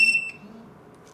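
A Retekess TD173 pager sounds a brief, bright electronic beep at the very start, then fades into quiet background hum.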